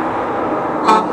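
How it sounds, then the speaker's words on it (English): A single brief truck air horn blast sounds near the end over steady road rumble, loud and fairly close. "Air horn honks."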